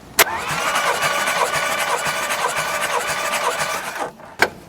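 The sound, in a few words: Chrysler engine cranking during compression test on cylinder 1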